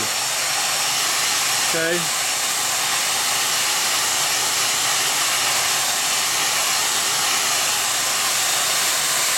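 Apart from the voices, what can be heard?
hair dryer drying clay teapot feet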